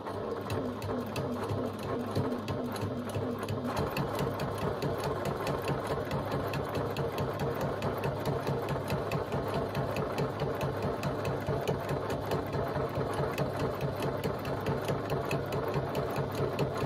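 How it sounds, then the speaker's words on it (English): Sewing machine top stitching a lining panel just below a facing panel, a steady fast mechanical whirr and rhythmic needle chatter running without pause, near and fairly quiet. "I'm just going to top stitch on the main lining panel 1/8 of an inch below this facing panel."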